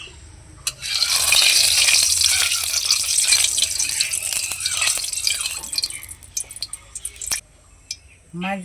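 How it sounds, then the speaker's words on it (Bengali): Loud, steady sizzling of chitol fish frying in hot mustard oil in a kadai, a dense hiss with scattered crackles and pops, fading into quieter spatters toward the end. "কড়াই গরম হয়ে গেছে সরষের তেল দিয়ে মাছগুলোকে ভুজে নেবো"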